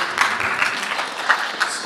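Steady applause from a concert audience after a symphonic jazz band performance, a dense wash of many hands clapping continuously at moderate distance.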